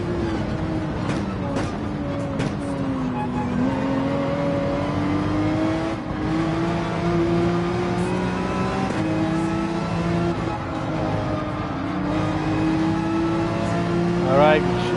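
GT3 race car engines at the Barcelona circuit in the video game Gran Turismo 7, a continuous close engine drone with rising and falling revs as the car accelerates, and someone talking over it.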